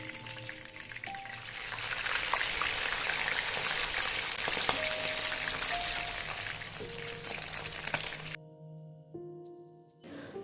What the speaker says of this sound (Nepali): अब चाहिँ यसलाई हामी पल्टाएर उतापट्टि पनि फ्राई गर्छौँ।